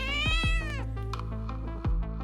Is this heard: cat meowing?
yes